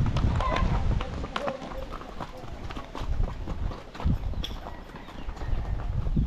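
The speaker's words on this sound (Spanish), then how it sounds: "¡Caballo!" A horse's hooves clip-clop at a trot along a street in Cuba, steady and fairly close, beneath someone talking loudly and general outdoor noise.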